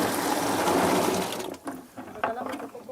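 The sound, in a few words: ripe coffee placed into water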